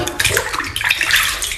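Water runs steadily from a tap into a tub, a continuous bright splashing rush that stays close and fairly loud for its short length.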